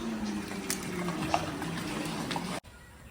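A can of water poured into a large pot of mutton biryani being cooked in a 20 kg catering batch, a steady rushing splash that cuts off abruptly near the end, fairly faint and close.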